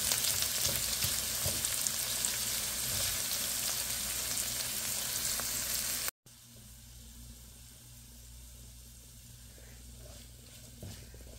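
Onions fry in oil in a cooking pot, a bright, steady sizzle that cuts out briefly midway and resumes quieter and duller, close by with no speech.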